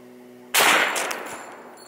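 A single loud gunshot fired at a chainsaw motor, an abrupt close crack followed by a short decaying echo after a quiet hum.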